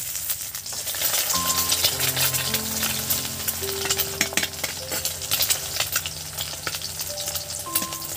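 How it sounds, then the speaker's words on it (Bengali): An egg frying in oil in a wok, a loud close sizzle and crackle throughout with faint utensil scrapes and a steady background hum, no talking. "নতুন কায়দা পুরো লুচির মতন ডিম ভাজা"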